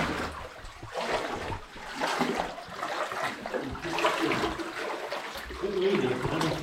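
Water rushes and splashes steadily through a flooded passage in an old lead mine, a broad close churning flow that swells and eases without pause.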